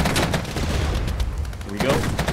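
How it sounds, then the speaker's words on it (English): Cluster bombs striking an urban area in a modern NATO-versus-Russia war video game, a dense continuous rattle of rapid blasts and crackling explosions that stays loud throughout. "Cluster bombs right there on that urban area."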